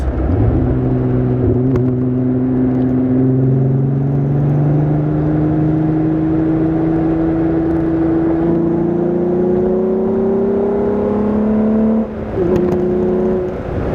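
A chipped car accelerating hard through a series of curves, its engine droning loud and steady from close by with rising pitch as it pulls, briefly easing before climbing again near the end.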